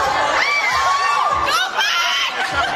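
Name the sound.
crowd shouting and cheering at mall show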